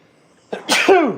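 A single sharp sneeze, close and fairly loud, following a brief quick inhale in an otherwise quiet moment.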